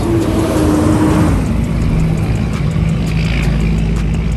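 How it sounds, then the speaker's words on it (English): A large truck or bus rumbles past on a nearby road, a steady broad engine and road roar that swells and fades over a few seconds with no talking. "let me let this truck go by"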